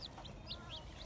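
Young chicks freshly arrived by mail give soft repeated chirps and clucks, several short calls spaced through a quiet backyard setting, faint and close.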